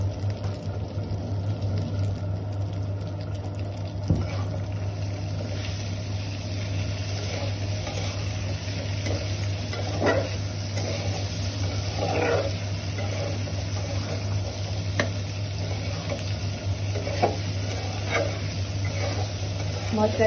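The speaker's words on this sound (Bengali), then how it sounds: "এই যে এবার সরিষা বাটাটা দিয়ে দিলাম। এবার ভালো করে কষিয়ে নিতে হবে" White mustard paste stir-fried with spices in a pan for a sweet, sour and spicy carrot pickle: a steady low sizzle with intermittent scraping stirs, moderately close, with a constant hum beneath.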